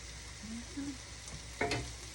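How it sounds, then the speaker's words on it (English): Steak cooking slowly in a pan, giving a quiet, steady low sizzle with a few soft stirring or shifting sounds and one brief louder clatter near the end. "the steak is cooking nice and slow, just the way I like it"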